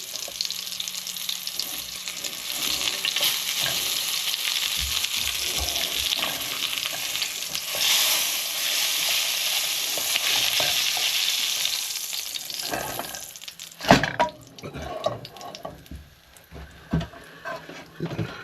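Lamb shanks browning in a pan, giving a loud, steady sizzle and spatter throughout, followed near the end by clattering and scraping as the meat is moved, with no talk.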